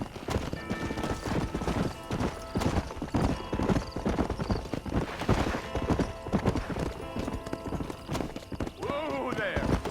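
Horse hooves clip-clop steadily in Red Dead Redemption, a rapid continuous trotting rhythm close by, with a voice talking over it and a brief neigh near the end.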